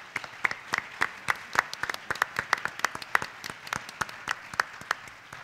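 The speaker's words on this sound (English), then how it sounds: "I want you to give them another round of applause." Scattered audience applause at a youth symposium expert panel, individual claps distinct and uneven rather than a dense roar, steady at moderate level throughout.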